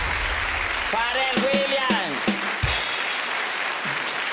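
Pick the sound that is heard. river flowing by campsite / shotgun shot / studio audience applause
studio audience applause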